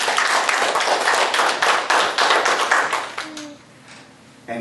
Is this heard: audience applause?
yes